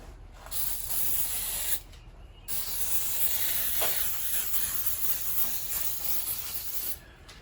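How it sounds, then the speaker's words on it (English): Brake cleaner sprayed from an aerosol can onto rear suspension parts of a 1936 coupe, giving a loud, steady close-up hiss in long bursts separated by brief pauses. "good old brake cleaner to the rescue. Let's spray this on and monitor the situation."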